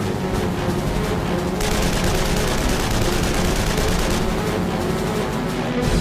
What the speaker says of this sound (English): No sooner do McCutton's guns spark to life than Voss pulls his nose to bear.